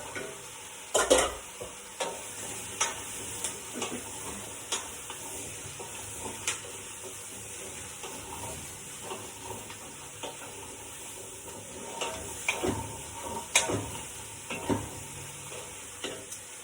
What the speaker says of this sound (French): Et je laisse mijoter comme ça, sans rien, sans eau, sans rien du tout